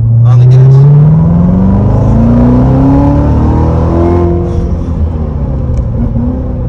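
A fast sports car with paddle-shift auto rev matching revs hard under acceleration, a loud close engine roar climbing in pitch and then easing to a steady drone.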